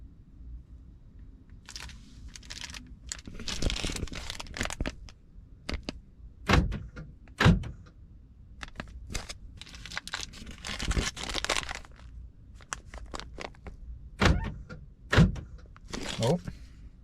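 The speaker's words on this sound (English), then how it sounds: "I just did it real quick and the door's locked and unlocked" Car door locks on a Matrix XRS clunk several times as they lock and unlock by key fob, sharp mechanical thuds spaced irregularly amid rustling, with a person talking between them.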